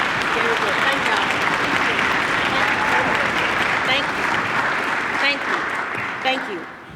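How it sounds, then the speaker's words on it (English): A youth orchestra's spring concert audience claps together in sustained, full applause, even and continuous before thinning slightly at the end. "Can we give Courtney and Grace a round of applause?"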